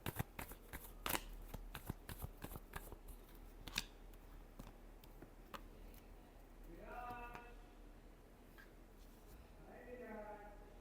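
A deck of tarot cards is shuffled by hand in repeated quick riffles and crisp snaps, close and clear, with two short bursts of speech breaking in near the end.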